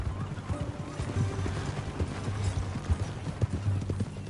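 Horse hooves clip-clop at a steady walking rhythm in the Western video game Red Dead Redemption 2, close and clear over a low ambient bed, with a brief whinny.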